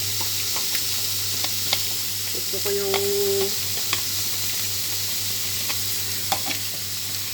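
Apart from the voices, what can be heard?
fish frying in pan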